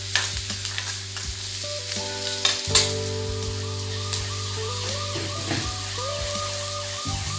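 Nuts and masala fry and get stirred in a pan for Brahmapur-style biryani, a continuous sizzle broken by scraping stirs and a couple of sharper clatters, with a steady low hum running underneath.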